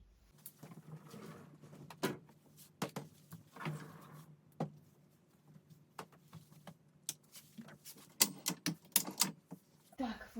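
A transformer craft storage cabinet with a fold-out table is opened, giving a series of wooden knocks, clicks and sliding thumps at close range, uneven in rhythm, with brief pauses between them.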